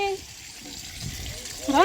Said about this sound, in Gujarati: નળ ચાલુ છે